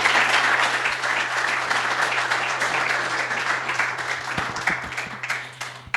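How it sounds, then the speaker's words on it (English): Audience applause fills the end of a technology conference session, a dense, steady clapping from a sizable crowd that holds fairly even for several seconds and tapers slightly near the end, with a low constant hum beneath. "We can have a big round of applause for my colleagues from CROZ once again."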